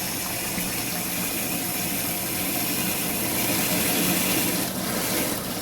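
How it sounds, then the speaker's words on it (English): Water rushes steadily through an aquarium siphon hose, a continuous hissing, gurgling flow up close with a faint mechanical hum beneath and no pauses. "That's going to create a siphon automatically. It's going to start sucking up the water"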